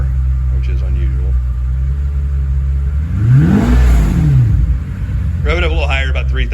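Renntech 7.4-liter V12 Mercedes SL (R129 SL600) revving, a deep, loud exhaust note that swells sharply and falls back over a steady idle rumble, with a voice briefly heard near the end.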